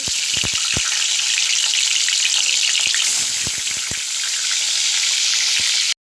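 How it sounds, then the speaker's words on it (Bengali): Bhola fish frying in hot oil, a steady loud broadband sizzle throughout with scattered pops and crackles, cutting off abruptly near the end. "দেখো তেলটা গরম হয়ে গেছে, এবার আমি মাছগুলোকে এর মধ্যে আস্তে আস্তে ছেড়ে দিচ্ছি।"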